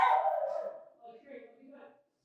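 Savage dogs barking in a background attack, loud at first then a few fainter, rougher yelps trailing off, heard near a gate and door over about two seconds.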